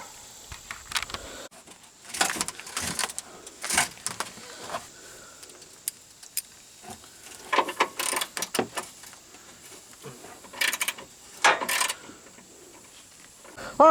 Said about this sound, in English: I'm going to go ahead and unloosen this side over here. 18 socket